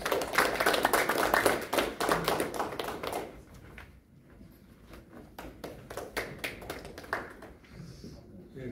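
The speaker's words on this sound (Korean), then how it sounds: "큰 박수로 맞아주십시오." Seminar audience at a Korean literary gathering clapping to welcome a speaker: a burst of many hands for about three seconds, then thinning to scattered faint claps and taps.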